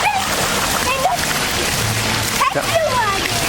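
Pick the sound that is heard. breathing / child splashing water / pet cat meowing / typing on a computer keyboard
child splashing water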